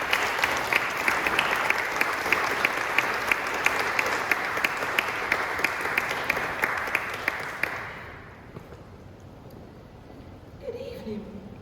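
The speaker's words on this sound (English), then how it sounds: "Let's give her a big warm round of applause." Audience applause at an evening candlelight vigil for Domestic Violence Awareness Month, with steady dense clapping for about eight seconds that then fades into quiet room murmur.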